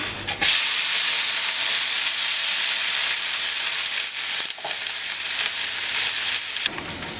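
Steady, bright sizzling hiss of fat melting on a hot griddle pan, continuous and close, with a brief sharp crackle near the start.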